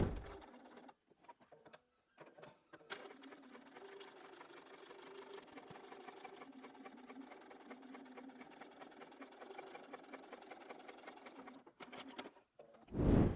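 A sewing machine runs steadily, top stitching close to a seam to hold fabric lining down, with a continuous fast mechanical whir broken by short pauses near the start and a brief louder bump at the very end; nobody speaks.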